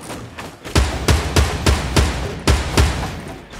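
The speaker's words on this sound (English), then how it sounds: "It's the scoped assault rifle." A scoped assault rifle fired outdoors in real life, eight loud, sharp single shots in a fairly steady rhythm, each with a brief echoing tail, close to the listener and with no talking.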